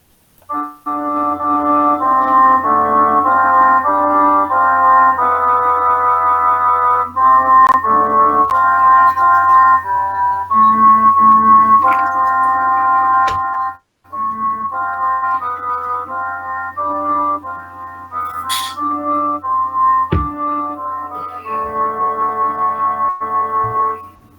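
A recording of a medieval polyphonic melody in the first mode plays steadily, with a plainchant-like line ornamented by a higher voice in sustained, reedy tones, briefly breaking off once midway before continuing alone.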